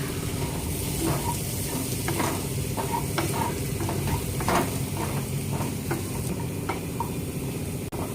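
Prawns being stirred into masala and frying for a prawn roast, a steady close sizzle with scattered spoon scrapes and taps against the pan, continuous throughout with no talking.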